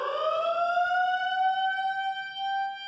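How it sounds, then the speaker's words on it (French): A siren announces mealtime in a detention centre, a single rising wail that settles into a steady, sustained tone lasting a few seconds. "Cette sirène annonce l'heure des repas."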